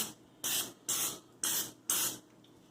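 Cooking oil spray hisses onto breaded chicken for chicken cordon bleu in four quick, evenly spaced bursts, close up with quiet gaps between them.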